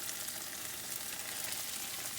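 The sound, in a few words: garlic Parmesan butter sizzling in hot pan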